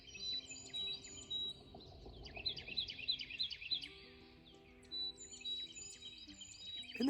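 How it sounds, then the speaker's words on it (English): Several birds sing and chirp at sunrise in repeated bright phrases, overlapping softly at a distance in an otherwise quiet outdoor garden setting. "waking up with the birds and hearing the birds sing"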